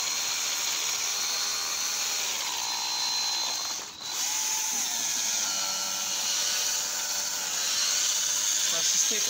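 Power drill sanding a car headlight whirs steadily at a high pitch, briefly stopping midway before running again, fairly quiet and alone without talk.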